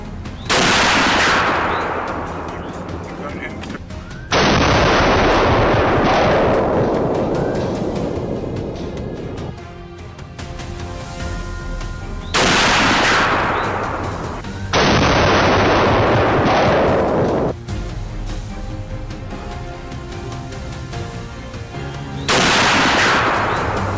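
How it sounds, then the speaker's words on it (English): Loud, crisp gunshots fired during a wild boar hunt, several sharp blasts spaced a few seconds apart, each followed by a long rolling echo across open country, with no talking. "A clean, crisp gunshot echoed."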